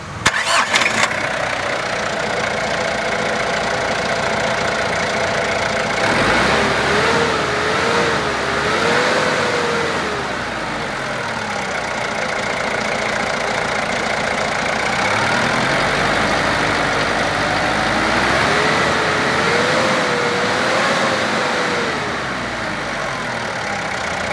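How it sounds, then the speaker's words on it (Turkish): A Ford Ranger 4x4 pickup with a burnt cylinder head gasket is jump-started with no battery fitted, cranking and catching, then settling into a loud, steady idle with a couple of slow revs rising and falling, close up and with no talking. "Araçta akü yok takviye ile çalıştırıyoruz."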